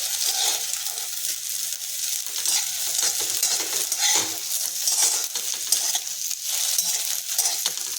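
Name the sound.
dal being roasted and stirred in a pan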